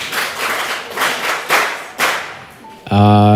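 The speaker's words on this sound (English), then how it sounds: "Please clap for the debaters." A short burst of audience clapping at a secondary school debate competition, several loud claps swelling and fading over a couple of seconds, then cut off by a sharp tonal sound.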